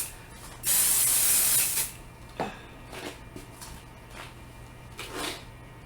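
Spray adhesive hisses from an aerosol can onto a quilt for basting, one loud continuous burst of about a second, then quieter handling and smoothing sounds.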